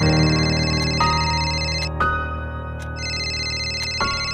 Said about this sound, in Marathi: तेवढ्यात फोन खणखणला